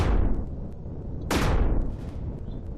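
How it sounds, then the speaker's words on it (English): Two powerful railgun shots fire in Empyrion, each a loud, sharp crack followed by a descending whoosh and rumbling tail, the second arriving about a second after the first. "those railguns are really awesome"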